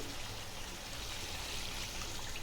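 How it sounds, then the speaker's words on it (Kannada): A glass of water pours into chicken masala gravy in a pan, a steady, fairly quiet rushing trickle that continues evenly throughout with no voices. "ಅದಕ್ಕೆ ನಾನು 1 ಗ್ಲಾಸ್ ನೀರು ಹಾಕ್ಕೊಳ್ತಾ ಇದ್ದೀನಿ"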